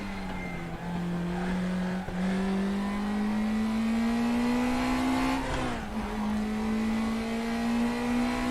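An NSU race car in the RaceRoom racing game drives flat out in online multiplayer, its engine droning loud and continuous as the pitch climbs steadily through the gears, with one brief dip and shift partway through.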